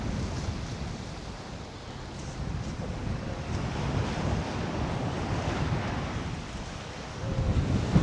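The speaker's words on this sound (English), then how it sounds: "Ooh, there's some big waves on the beach over there." Big ocean waves break on a beach at Costa Teguise, Lanzarote, making a continuous roaring wash of surf that rises and falls slightly, heavily mixed with gusty wind buffeting the microphone.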